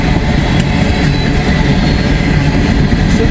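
Freight train rolling steadily past on the Cincinnati line heading north, a continuous low rumbling drone with faint wheel clatter, loud and close throughout.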